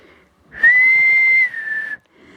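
A single sharp, loud whistle blown to call a dog, holding one steady high pitch for over a second before dropping slightly and stopping, with quiet surroundings before and after.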